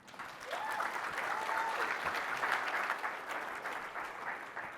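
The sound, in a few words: audience applause for presenter Anthony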